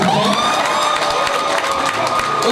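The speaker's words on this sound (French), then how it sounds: "Alors on peut les applaudir encore une fois s'il vous plaît." An audience at a university anniversary celebration for a professor emeritus applauds and cheers, with dense clapping and excited shouts, children's voices among them, filling the room in a loud, continuous burst.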